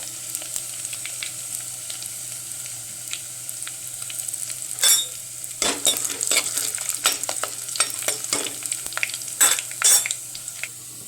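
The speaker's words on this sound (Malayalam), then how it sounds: "നമ്മുടെ ഉള്ളിയൊക്കെ നന്നായിട്ട് ഫ്രൈ ആയിട്ടുണ്ട്" Sliced onions frying in a pan with dried red chillies make a steady oily sizzle, and a spoon scrapes and clatters against the pan in bursts of stirring in the second half, close and clear with no talk.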